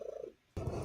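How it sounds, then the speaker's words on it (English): A pet cat purrs close by for about a quarter second, a soft low pulsing drone that fades into near silence before a louder burst of broadband handling noise cuts in. "Yeah, you're purring"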